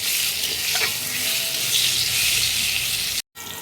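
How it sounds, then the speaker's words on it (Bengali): Fried eggplant tossed with garlic in a hot pan gives a steady, loud broadband sizzle with faint stirring scrapes, cut by a brief silent gap near the end before the frying sound returns. "এবারে ভেজে রাখা বেগুনটা দিয়ে দেব, দিয়ে ভালো করে একটু নেড়ে নেব"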